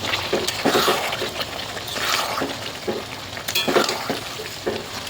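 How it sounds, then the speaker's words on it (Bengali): Mutton sautéing in a pan, a continuous close sizzle broken by repeated stirring scrapes and soft clatter at an uneven rhythm, fairly loud, with no talking. "আর এই দেখো মাংস কিন্তু কষানো চলছে।"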